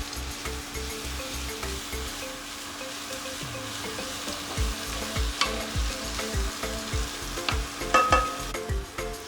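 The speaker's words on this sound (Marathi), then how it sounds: "आता आपण टाकणार आहोत मोड आलेली मटकी एक वाटी मटकी घेतलेली आहे तेही सर्व परतून घ्यायचं आहे" Sprouted moth beans (matki) sautéing in hot oil in a pan, a steady sizzle with repeated rhythmic scrapes of a spatula stirring, close and alone with no voices.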